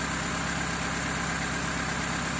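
A 2001 Honda Civic LX engine runs steadily after repair with new injectors and coils, a close, even idle hum with no talking.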